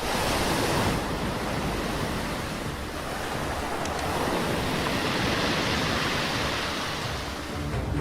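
Sea waves crash over the collapsed sea wall on the west side of Kattil Mekkathil temple, a continuous loud roar of surf and spray running through the whole stretch with no voices.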